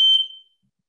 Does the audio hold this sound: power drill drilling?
no